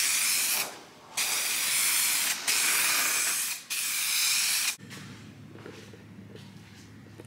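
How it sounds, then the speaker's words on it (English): A spray gun lays a light base coat on an E46 M3-style car bumper in four long, loud hissing bursts separated by short pauses, followed by a quieter stretch of low background hum. "So with the first sprays, I like to go pretty light."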